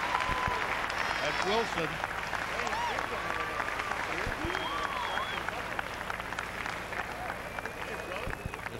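At an amateur boxing night, a crowd applauds and cheers as a cruiserweight fighter is introduced, with steady clapping and shouts under a voice speaking over the hall.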